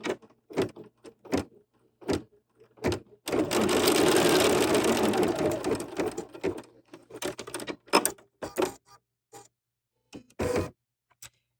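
An embroidery sewing machine stitches a sampler in one steady whirring run of about three seconds, bracketed by scattered sharp clicks and taps of handling before and after.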